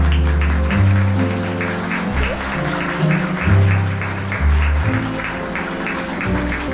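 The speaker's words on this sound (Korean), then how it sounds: "오늘의 행복한 주인공 신부에게 여러분 아낌없는 사랑의 박수를 보내주시기 바랍니다" Wedding guests at a ceremony applaud the bride as she walks the aisle. The steady clapping sits beneath loud, prominent processional music with a deep rhythmic bass line throughout.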